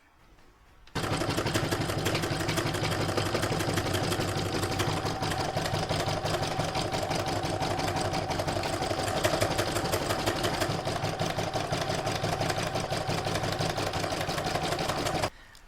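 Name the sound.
embroidery machine stitching detail and edges of Santa bag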